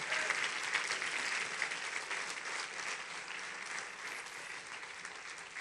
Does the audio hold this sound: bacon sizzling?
no